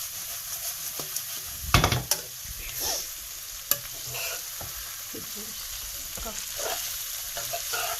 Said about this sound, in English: I'm just going to add them into this mixture. I'm just going to give it a good toss.